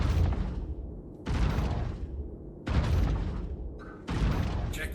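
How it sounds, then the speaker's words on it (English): A weapon in the video game, in combined mode firing two bullets at a time, lets off four loud broadband bursts. Each burst lasts about a second, with short near-silent gaps between them and no talk over it. "So I'm gonna fire 2 bullets at a time."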